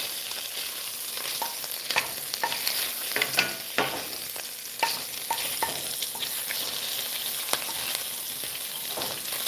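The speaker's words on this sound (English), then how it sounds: "this piece of bacon is being sacrificed for the sake of tallow" Bacon sizzling and spitting as it renders down for tallow, with a constant close crackle, scattered sharp pops and occasional scraping stirs, no voices.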